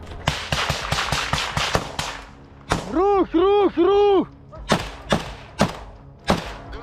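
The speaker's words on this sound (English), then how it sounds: "gunfire and explosions echoed through the ruined buildings and trenches" Bursts of rapid gunfire crack and echo through ruined buildings and trenches, followed by a few louder, spaced blasts, with some strained harmonic tones in the middle of the sequence.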